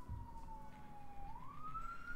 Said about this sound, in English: Nice siren going by.